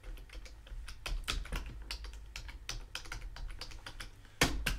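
Steady typing on a computer keyboard while expense labels are entered into a budget sheet: close, crisp key clicks in uneven runs, ending with a harder thump of a key.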